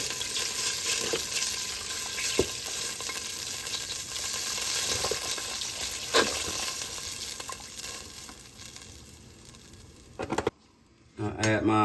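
Swanson beef broth goes into a pot of sizzling beef stew, a steady broad wash of hiss and bubbling that runs on for several seconds, then drops away near the end before a short clink of utensils.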